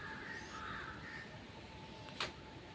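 A crow caws faintly in the distance outdoors on a rainy day, a couple of short calls standing out over steady rain hiss and low background noise.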